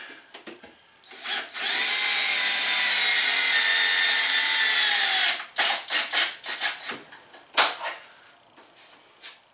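A power drill drives a screw through an extension bit while building the interior cabinet of a teardrop trailer: one loud, steady whir of about four seconds, then short bursts and clicks from handling the wood.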